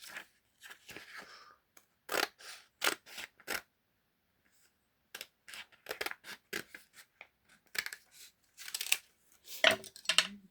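Scissors snip paper for a craft bingo page, with short crisp cuts in irregular bursts of several strokes and brief pauses between them, close and clear, with no talk.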